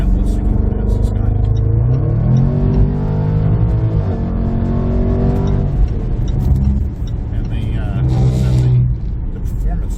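A 2019 Jaguar F-Pace SVR engine pulls hard through repeated rising revs, loud and close from the cabin, with gear changes breaking the climbing tone into separate sweeps.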